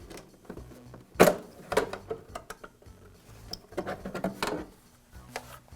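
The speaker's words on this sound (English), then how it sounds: "Once the knobs are removed, I lift the shroud slightly and then just pull it to the side." Plastic shroud lifted and slid off a DeWALT planer, giving close scattered knocks, scrapes and rattles of varying loudness with no voices.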